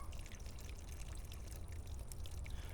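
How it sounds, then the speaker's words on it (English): Water drains from the bottom of a potted banana plant, a faint close trickle with scattered small drips and splashes over a soft continuous wash. "See it all dripping down out of the bottom?"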